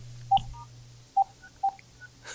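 Telephone keypad dialing star 69, three short distinct touch-tone beeps spaced apart over a low hum, clear and close with no talk, ending in a brief burst of noise.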